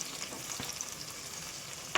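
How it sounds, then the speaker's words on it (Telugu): Chopped onions fry in hot oil in a pot, giving a soft, steady sizzle with light crackling throughout, no voices over it. "మొదటగా ఉల్లిపాయలు వేసుకోవాలి. ఉల్లిపాయలు వేగుతుంటాయి."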